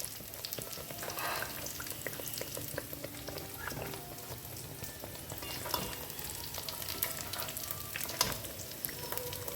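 Chicken pieces frying in a pan of oil-separated spiced masala for chicken chaap, a steady close sizzle with scraping stir strokes and small pops throughout, no voices.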